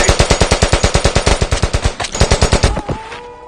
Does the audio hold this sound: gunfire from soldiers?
yes